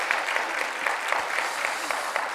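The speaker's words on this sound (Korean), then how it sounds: "우리 박수 한번 할까요?" A church congregation applauds a choir made up entirely of deaconesses, producing steady, dense clapping from many hands that fills the whole stretch without talk.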